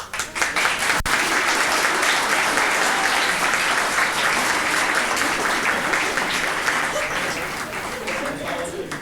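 Sustained applause from a large audience at a university honors convocation, dense and even clapping throughout with a sharp knock early on.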